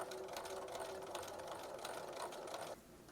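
A sewing machine edgestitches along a fabric seam or fold, a quiet, fast, even mechanical hum with rapid needle ticking that runs for nearly three seconds and then stops.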